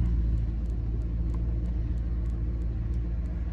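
A deep, steady Maserati GranTurismo S engine rumble idling in sport mode with exhaust valves open, a throaty exhaust tone, constant and fairly close, with no voices.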